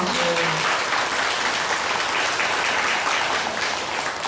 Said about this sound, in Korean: 그래, 큰 박수 한번.